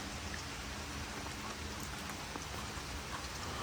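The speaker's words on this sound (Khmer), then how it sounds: "នេះរលឹមស្រេចមកហើយ" Steady light drizzle falling outdoors in Charlotte, North Carolina, a soft continuous patter of fine raindrops with an even hiss, close and constant throughout with no voices.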